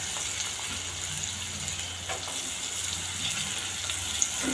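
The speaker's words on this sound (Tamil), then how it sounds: "கருவாடு நல்லா எண்ணெயிலே பொரியணும்" Dried fish frying in hot oil in a pan gives a steady, close, continuous sizzle and crackle that holds even throughout, with no talking.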